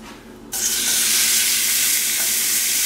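Pork tenderloin hits a hot pan with a sudden loud hiss that settles into a steady, close, intense sizzle with no talking.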